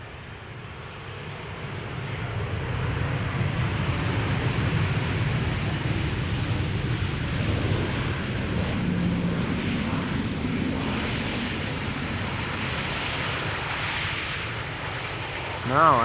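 A Turkish Airlines jet arrives at Amsterdam Schiphol Airport, a steady loud roar of engines that swells and holds for the whole stretch, with a voice talking over it.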